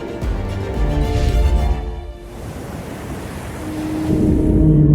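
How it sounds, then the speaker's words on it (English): Steady roar of ocean surf with wind buffeting the microphone, swelling louder toward the end; no voices. "We listen to the ocean"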